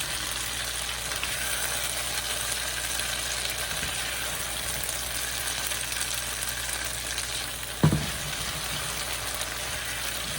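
Jamaican saltfish and okra simmers in a pot with a steady, even bubbling and faint sizzle, broken by a single brief clunk near the end; no one speaks.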